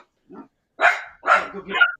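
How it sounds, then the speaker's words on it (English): A dog barks a few times nearby, short sharp woofs in quick succession after a faint yip, loud and close. "my dog's going to start barking"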